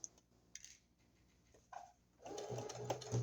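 A sewing machine back stitches at the end of a seam on a junk journal cover, a faint close whirring burst near the end after quiet handling clicks, with no speech heard.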